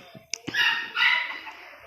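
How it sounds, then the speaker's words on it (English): A dog barks a couple of times at mid distance, sharp yelps followed by a longer whining bark that trails off. "My doggy there."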